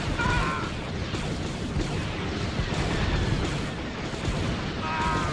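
Cannon fire and explosions in the space strategy game Empire at War with Mon Calamari forces, a dense barrage of booms and blasts with brief high zapping tones, loud and close with no talk.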